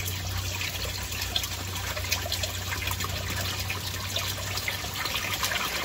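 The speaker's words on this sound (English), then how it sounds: "Water level increasing, the water flow increasing." Water flowing steadily through an aquaponics U-siphon as the grow bed drains, a constant close trickling and gurgling rush that holds at an even level throughout with no talk.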